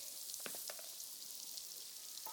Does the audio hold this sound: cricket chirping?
no